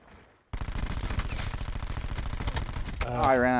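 Automatic gunfire in the video game Black Ops 4 rattles in a dense, continuous burst that suddenly cuts in and runs for several seconds before giving way to other game sounds.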